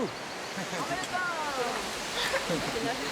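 A steady, broad rush of falling water from the highest waterfall in French Polynesia roars continuously, with faint voices talking over it.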